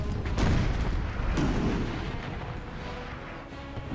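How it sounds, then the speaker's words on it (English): Artillery booms on a Waterloo battlefield in Total War: Napoleon, with repeated heavy rumbling blasts overlapping in a dense, continuous low roar that stays loud from start to finish. "we've got artillery going off here and there everywhere"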